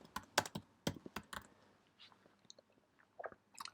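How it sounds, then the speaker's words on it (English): Keys on a computer keyboard tap out a short burst of typing during setup of an HD HomeRun Connect and Plex DVR, a few close clicks, then quieter scattered taps. "So if I type in at the top here, the chase"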